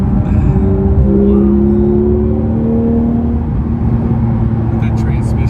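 Steady engine drone from a Porsche 911 GT3 with a manual transmission while driving, a smooth rising and falling hum heard from inside the cabin throughout.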